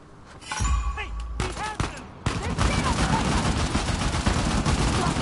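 Gunfire in the video game Uncharted: The Lost Legacy, a rapid burst of shots building into sustained loud fire with impacts, mixed with game effects and a brief voice.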